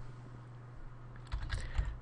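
Keys clatter on a computer keyboard in a short burst of quick close taps after a quiet stretch of steady low hum.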